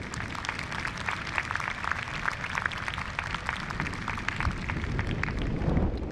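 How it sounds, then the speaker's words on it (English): An audience at an eighth-grade class promotion ceremony claps for the graduating students, a fairly quiet but steady wash of many hands from a distance, continuing throughout without talk. "Let's give these students a round of applause."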